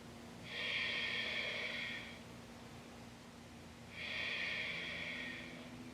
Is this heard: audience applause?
no